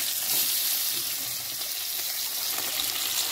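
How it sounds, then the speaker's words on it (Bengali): Koi fish frying in hot oil in a pan, a dense, steady hiss of sizzling spatter that runs unbroken and fairly loud, with no voices. "আরও বাকি যে মাছ তিনটি আছে সেটিকেও আমি ভেজে"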